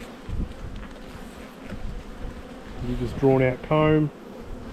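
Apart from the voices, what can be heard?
honey bees buzzing at the hive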